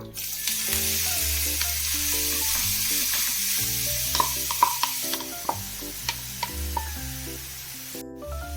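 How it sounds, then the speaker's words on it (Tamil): Carrots frying in hot ghee for carrot halwa, a loud continuous sizzle close up, broken by scattered clicks and scrapes of a spoon stirring the pan in the second half. "நெய் சூடாயிடுச்சு. இப்போ நம்ம கேரட் ஆட் பண்ணிடலாம்."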